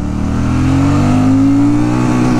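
A Royal Enfield Super Meteor 650 motorcycle accelerates in first gear, its loud, steady engine drone climbing gradually in pitch from close by, with no talking.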